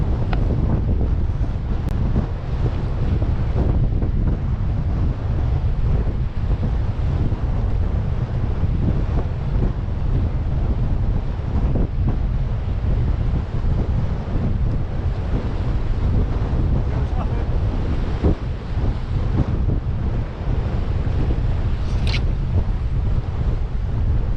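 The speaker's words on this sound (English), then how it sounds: "It is windy." Strong wind at the sea while fishing buffets the microphone nonstop, a loud roaring rumble with gusty surges and no voices throughout.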